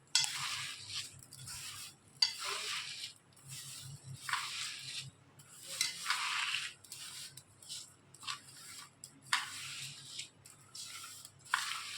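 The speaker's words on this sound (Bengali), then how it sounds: "এই যে এখন হচ্ছে চিনি আর নারকেল কোড়াগুলোকে একবারে মেখে রেখে দিচ্ছি।" Sugar and grated coconut are kneaded together by hand, giving soft, close rustling, squishing and crunching bursts in an irregular rhythm with short pauses between them.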